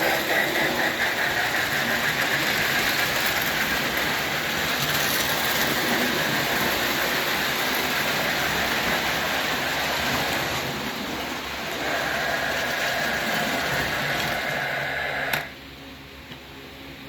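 A die-cast metal Marx 666 toy train engine runs on its track, giving a loud, continuous whirring rumble for about fifteen seconds before it stops abruptly.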